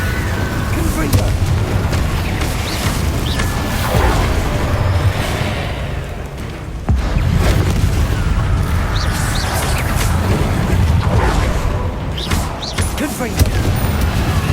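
Repeated Confringo spell blasts in Hogwarts Legacy combat produce loud, booming bursts that recur over a steady rumble of fighting noise, with voices heard underneath.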